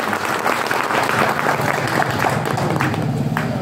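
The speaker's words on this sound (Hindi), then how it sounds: "एक बार मैं चाहता हूं कि उन शहीदों के सम्मान में जोरदार तालियां गढ़वाल की तरफ से हों।" Loud, sustained applause from an audience at a Hindi poetry gathering (kavi sammelan), clapping in honour of martyrs; dense, continuous and close, filling the whole stretch with a murmur of crowd beneath.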